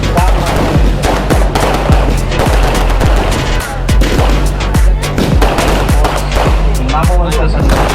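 Firecrackers burst in a rapid, continuous volley of loud pops and bangs at the opening of a kabaddi tournament in Alibag, Raigad, close by and without pause, with voices mixed into the din.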